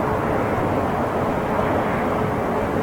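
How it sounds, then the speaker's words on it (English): Big Boeing 777-200 airliner departing on runway 27 right at London Heathrow, heard as a steady, dense broadband engine roar that holds level throughout, with no voices over it. "Dumping great big 777-200 going out runway 27 right"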